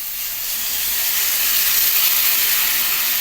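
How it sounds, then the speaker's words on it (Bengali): Lentils tipped into a hot pan of browned fried vegetables set off a loud, rising hiss of steam that holds steady and close throughout, with no voices. "এই আমার সবজিটা বেশ লাল লাল করে ভাজা হয়ে গেছে এইবার আমি এই ডালটা এর মধ্যে দিয়ে দিলাম"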